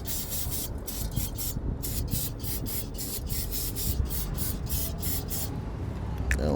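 Scraping the front brake rotor hub clean on a 2016-2022 BMW X1 F48, heard as repeated rhythmic rasping strokes over a steady low background noise, close and fairly quiet, with no speech.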